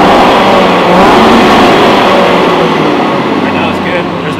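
Supercharged V8 in an Aston Martin Vantage, loud and close, idling and then revving in a steady broadband roar that holds for several seconds and eases slightly near the end.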